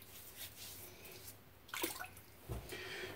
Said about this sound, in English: Let's throw a little bit of water in the face.